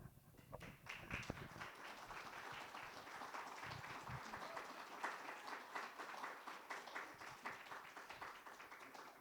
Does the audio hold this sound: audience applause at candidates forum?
yes